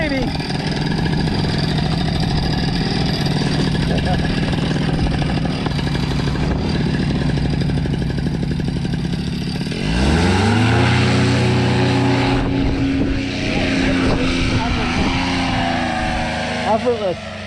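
A paramotor engine at full throttle during a climbing flight, a steady loud droning roar that swells and rises in pitch midway, with people talking and calling out over it.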